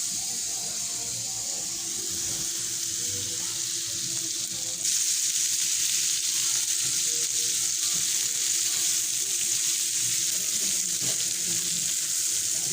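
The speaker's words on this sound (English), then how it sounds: "So I'm going to put some butter, some garlic right here, and salt and pepper, and then fry this up." Radish leaves frying in butter with garlic, salt and pepper give a steady, close sizzle that grows louder partway through and continues unbroken, with no talking.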